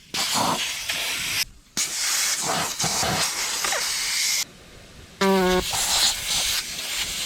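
Air hisses loudly from a 4WD tyre being let down from 40 to 25 psi on a road trip, in several long bursts broken by brief pauses, with a short squeaky chirping near the end.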